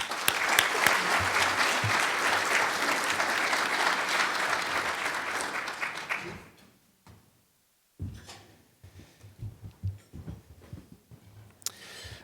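An audience at a Concord Chamber breakfast panel on homelessness claps loudly and steadily for about six seconds to welcome a police chief to the podium. The applause then fades to quiet room noise and some soft handling sounds.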